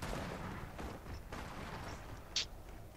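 Longshot sniper rifle fire in Gears of War 4 gameplay comes through as faint, muffled booming bursts spaced a second or so apart over quiet background noise.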